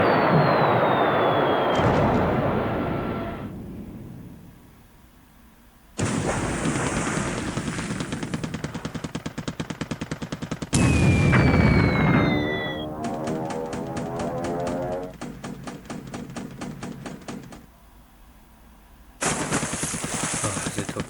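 Torpedo bombers attack in War in the Pacific: Admiral's Edition, a WWII naval strategy game: bursts of rapid gunfire and explosion blasts come in separate loud blocks split by sudden cuts and short quiet gaps, with no voices.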